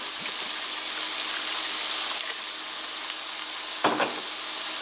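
Rice, tomatoes and water or chicken broth go into a hot pan for chicken jambalaya, making a steady broad sizzle with a brief stir-like burst near the end.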